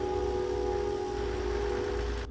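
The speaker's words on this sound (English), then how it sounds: "I love that horn sound, it's awesome." A passenger train horn blares in a sustained steady chord over heavy rumbling, holding for a couple of seconds before cutting off.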